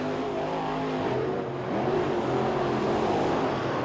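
Race cars roar side by side around a track at a night event, a dense, continuous engine drone with shifting revs and no breaks.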